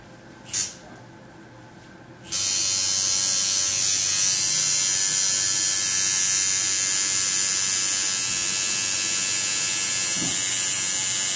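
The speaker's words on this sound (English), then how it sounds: "Now I'm just going to go through and fill out the rest of this tattoo with hand poking and my tattoo machine." A tattoo machine switches on after a brief knock and quiet pause, then buzzes steadily and loudly with a high, even electric drone while tattooing goes on, close to the listener and with no talking.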